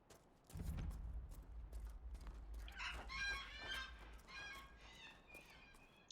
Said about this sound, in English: Oh, it's a bird.